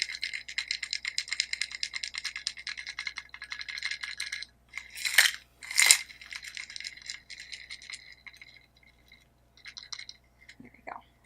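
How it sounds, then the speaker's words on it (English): Ice rattling in a shaker as a mocktail is strained into a tall glass, a fast busy clatter of cubes broken by two louder knocks, then a few softer rattles near the end, close and without talk. "So you want to strain that into your tall glass."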